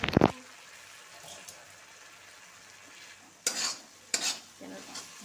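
Egg, Maggi noodles and masala fry in a pan, giving a quiet sizzle, with a few short scraping stirs: one sharp burst at the start and two more near the end.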